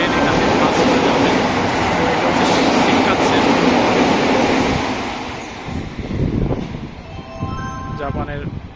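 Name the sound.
fast Japanese train passing through a station platform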